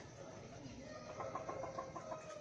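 A sick chicken with mucus in its airways gives a short run of faint, raspy clucks near the middle, quiet against a low background murmur.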